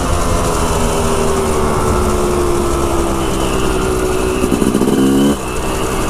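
A dirt bike engine at Hollister Hills revs hard and close as the throttle is twisted, a loud sustained buzzing drone that climbs in pitch before dropping off near the end.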